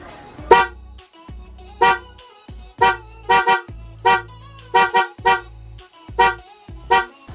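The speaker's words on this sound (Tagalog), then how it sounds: "Testing natin yung busina natin." A Honda Raider 150 FI motorcycle horn honks about a dozen times in short, close, loud bursts, some in quick doubles, with brief silences between them.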